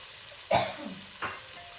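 Spice paste with cumin, ginger and chopped tomato frying in a pan, two short sizzling bursts against a quiet background.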